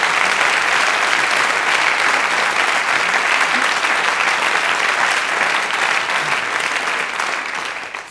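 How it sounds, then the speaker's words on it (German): Long, steady applause from a stage show audience honoring a comedian, dense and loud throughout and tapering slightly at the end, with no voices over it. "Einen herzlichen Applaus nochmal"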